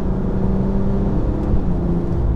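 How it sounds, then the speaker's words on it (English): A BMW M2 Competition runs with a steady, loud engine whir and rumble close by. No distinct pops or crackles stand out, and nobody speaks. "the car really does sound fantastic. It pops and it crackles while downshifting"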